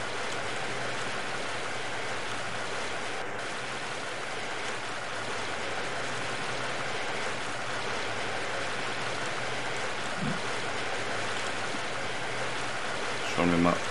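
Water flows and splashes steadily in Half-Life: Blue Shift, a constant stream-like rush where water collects, faint and even throughout.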